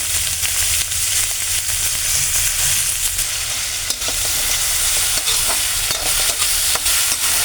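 Chopped onions fry in mustard oil in a kadai, a loud, dense, continuous sizzle and crackle with faint stirring scrapes, heard up close throughout.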